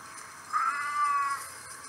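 A house cat lets out one drawn-out meow, close and fairly loud, rising and then trailing off over a quiet background with no talking.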